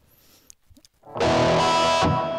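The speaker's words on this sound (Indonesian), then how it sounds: "Ini distorsi juga ya, tapi kayak agak kasar sedikit ya" Electric guitar through a Zoom effects pedal set to a rough distortion, a loud sustained chord ringing out after a few faint plucks, with no talk.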